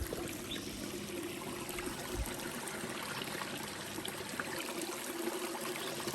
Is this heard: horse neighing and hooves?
no